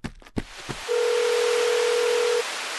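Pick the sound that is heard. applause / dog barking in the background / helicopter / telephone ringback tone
telephone ringback tone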